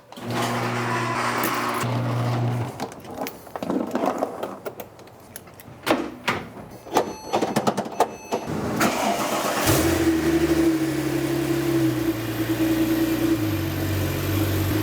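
A Porsche 911 Turbo engine cranks and catches with bursts of clattering, then starts and revs up loudly before settling into a steady running drone nearby.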